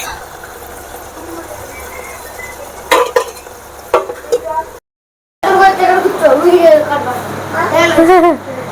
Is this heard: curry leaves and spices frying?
yes